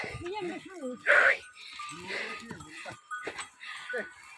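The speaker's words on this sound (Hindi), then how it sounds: "तो बकरी भी आ चुकी है जी।" A goat bleats in a rural Himalayan hill setting, one short loud wavering call standing out among nearby speech and other faint farmyard sounds.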